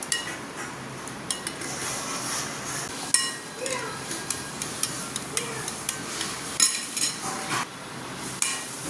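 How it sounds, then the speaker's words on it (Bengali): Cream being stirred and mixed in a bowl with a utensil, giving soft scraping and occasional clinks against the bowl, steady and close, with faint kitchen background noise throughout. "এবার ভালো করে এটাকে মিক্স করে নেব।"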